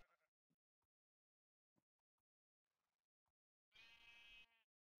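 A single short sheep bleat from the Minecraft video game rings out clearly near the end, alone against near silence apart from a few tiny clicks.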